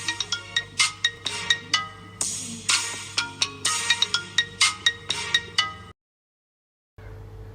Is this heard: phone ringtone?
yes